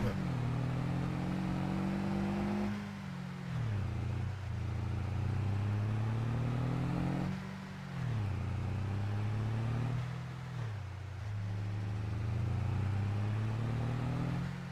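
A vehicle engine in Farming Simulator 22 drones loudly and steadily, rising in pitch through each gear and dropping at the shifts in a repeating cycle, with no talk over it.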